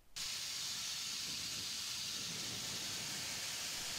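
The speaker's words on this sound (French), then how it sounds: "la vapeur décolle la saleté qui est simultanément aspirée" A Farabrio Pro 2 steam cleaner working outdoors, steaming dirt loose while vacuuming it up at the same time, starts abruptly into a loud, steady, broad hiss of steam and suction that holds evenly to the end.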